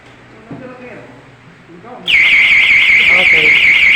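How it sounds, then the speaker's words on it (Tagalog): Smoke detector alarm from a newly installed fire detection and alarm system blares loud and steady in a warbling tone during a test, starting halfway through after a stretch of quiet talk. "Okay, smoke detector test."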